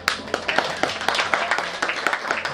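Guests at a wedding celebration clap in a loose, uneven rhythm of sharp, fairly close claps that carry on steadily for a couple of seconds.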